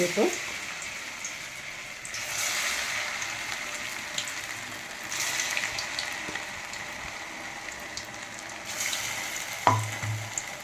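Puffed rice vadas dropped by hand into hot oil fry with a steady, close crackling sizzle that swells in bursts as pieces go in, with a few soft clunks.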